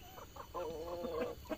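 Free-range village chickens cluck in short, faint bursts during the morning feeding outdoors, several birds overlapping softly at a distance with low rustling underneath.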